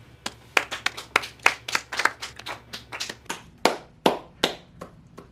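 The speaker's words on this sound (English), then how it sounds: "let's all start clapping." A small group claps hands in an uneven burst, sharp slaps spaced irregularly over about five seconds, fairly close and fading toward the end, with no talking.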